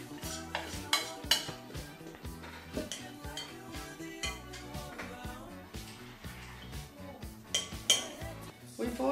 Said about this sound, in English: We mix the 2 eggs and the water.